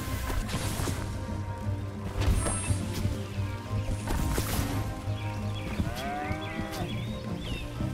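Cartoonish cow moos from the space-cow game Moo Lander ring out over dense game music and impact effects, with a rising, wavering call near the end.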